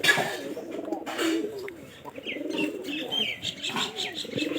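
An older pigeon coos in a series of soft, low, throaty calls, with faint chirps from other birds in the background and no talking.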